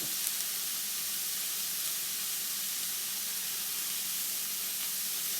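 Mushrooms sizzling and steaming in a pan over lowered heat, a soft, steady frying hiss that carries on evenly throughout with no talking.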